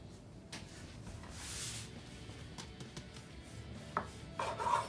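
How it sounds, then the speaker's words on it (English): Cinnamon roll dough being rolled by hand into a tight swirl on a work surface, giving soft rubbing and light thumping sounds, fairly quiet and close, with a few sharper taps near the end. "so now we're going to get our dough and we're going to roll it into a tight swirl"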